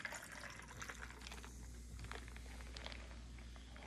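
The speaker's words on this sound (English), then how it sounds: "2 ounces of soda pop" Orange soda pop, about two ounces, poured into a glass for a homemade Licor 43 creamsicle cocktail, a faint steady fizzing trickle with no talk over it.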